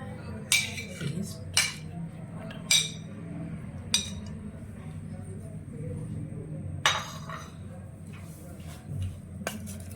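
Metal utensils clink against a bowl in short, separate taps while chicken reshmi kebab marinade with ginger-garlic paste is mixed, a few sharp knocks spread across a quiet kitchen background.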